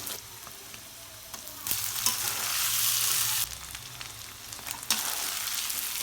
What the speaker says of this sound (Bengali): আদা রসুনটা দিয়ে আমি একটু বেজে নেবো যাতে কাঁচা গন্ধটা না